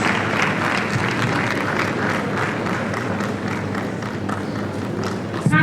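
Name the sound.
audience applause for a pastor at a conference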